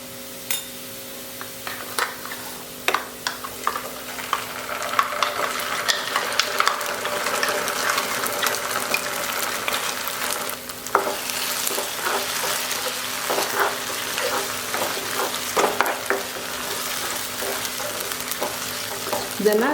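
Ground masala paste frying and sizzling in ghee for a Mangalorean-style chicken ghee roast, stirred steadily in the pan, with a continuous sizzle and light scraping close up and no talk.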